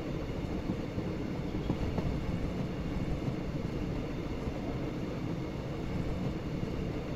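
An Indian Railways train with brown coaches runs along, giving a loud, steady rumble and rattle of rolling stock that continues unbroken and close by.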